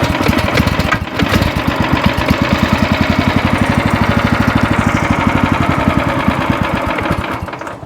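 An Echo SC-3013 wood chipper's small gas engine runs steadily and loud, with a fast, even chugging pulse throughout and no talk.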